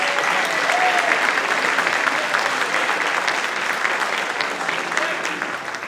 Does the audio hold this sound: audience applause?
yes